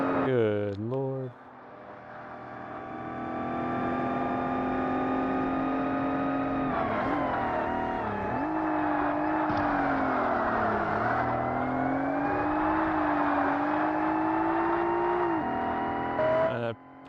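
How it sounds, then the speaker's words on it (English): A Porsche race car in the original Forza Motorsport on the first Xbox, its engine holding a steady high-pitched whine with pitch rising and dipping through gear changes, loud and continuous, with a voice briefly talking over it. "that Porsche's like he's got somewhere to be"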